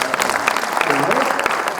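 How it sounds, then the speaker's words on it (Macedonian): Audience applause for a cast at a forum theatre performance, continuous clapping from a crowd with a voice talking briefly over it. "Еден аплауз за Јоци"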